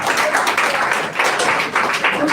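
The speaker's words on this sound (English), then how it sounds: "A round of applause." Audience applause after student team presentations at a university association's pitch event, a steady wash of many hands clapping that keeps going across the whole moment with no pauses.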